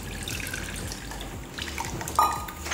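Soaked tamarind water is poured into a bowl in a home kitchen, a soft continuous trickling splash with a small clink near the end, close and moderately quiet.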